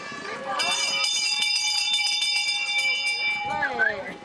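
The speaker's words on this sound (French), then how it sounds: "On va bientôt sonner la cloche du dernier tour" At an amble harness race, a last-lap bell rings rapidly and continuously for about three seconds, bright and metallic, while a commentator talks over it.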